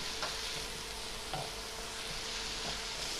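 Shallots, curry leaves, ginger and garlic sautéing in a pan, a steady close sizzle with a few light stirring scrapes, no voices.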